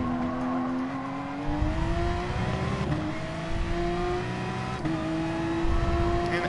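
A Gr3 race car in the GT Sport video game at Suzuka, its loud engine note climbing steadily and then dropping sharply at two downshifts before rising again, with a continuous close drone throughout.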